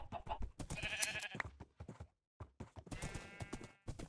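Blocky sheep in Minecraft bleat twice amid clopping game footstep sounds and tapping, quick bursts separated by a short silence, close and moderately loud.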